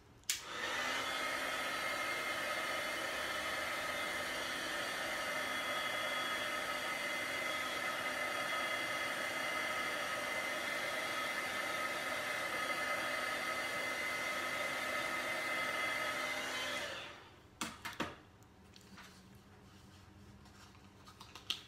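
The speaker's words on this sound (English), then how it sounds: "I've got my heat tool here, and just gently heating the mini glue dots" A heat tool blows steadily and loudly for about seventeen seconds while softening mini glue dots for paper crafting, then cuts off, leaving faint handling clicks and rustles.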